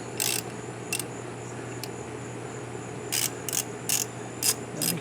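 A ratchet wrench turns a 10mm nut off a Yamaha starter relay, giving short bursts of quick clicking at a moderate distance over a steady low hum, with a handful of separate ratcheting strokes.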